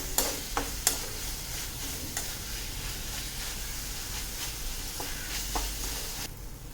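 Tomatoes sauté in a pan for pumpkin masala, with a soft steady sizzle and a few sharp spoon clacks and scrapes against the pan, most of them early on.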